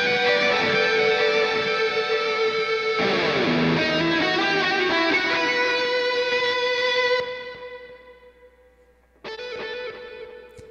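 A sustained electric guitar chord rings out with repeating delay echoes, then fades and a new chord strikes near the end; no talking.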